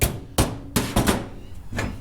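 A hammer strikes metal in a garage where a Plymouth with a Holley Terminator is being worked on, landing about five sharp, loud, close blows at an irregular rhythm with no talk.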